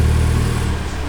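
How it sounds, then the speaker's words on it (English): A 2019 Toyota Corolla Hatchback engine with a TRD intake running loud and close, a deep rumbling drone with rising revs, heard alone without talk. "I'm gonna give it a few revs, see if it sounds any different"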